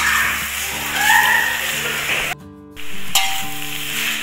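Mustard greens stir-fry in a wok for Javanese noodles, giving a loud steady sizzle broken by a brief dropout, with faint clinks and a low hum beneath.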